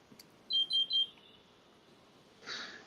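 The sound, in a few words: electronic beeping chirp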